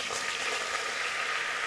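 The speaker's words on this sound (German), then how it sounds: "Die lasse ich jetzt so lange brutzeln, bis sie ein bisschen braun geworden ist, also so goldgelb." A butter and flour roux sizzles in a pan, giving a steady, even hiss with no pauses and no talk over it.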